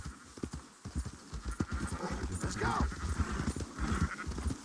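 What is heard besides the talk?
horse galloping in a video game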